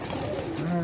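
Low cooing from a pigeon or dove, a steady rising hum of notes held against a busy background and steady talk.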